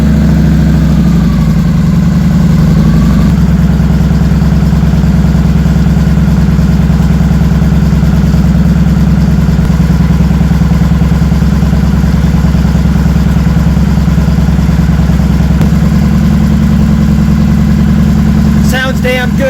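A 2007 Victory Vegas motorcycle engine idles steadily after a fuel pump replacement, its loud, close, low rumble constant with no revving, and a brief clatter near the very end.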